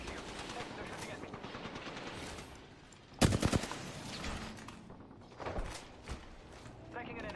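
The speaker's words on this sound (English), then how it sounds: "They're shooting at me." Rapid video game gunfire crackles in bursts, with a loud volley near the midpoint and further shots trailing after, while a voice talks over the action.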